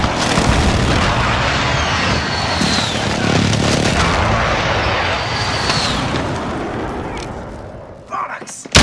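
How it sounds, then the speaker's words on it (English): Precision airstrike explosions in Call of Duty: Modern Warfare boom and roll in a dense, heavy barrage of blasts and rumbling debris, with faint whistling passes overhead, fading out near the end. "Be advised, friendly precision airstrike in"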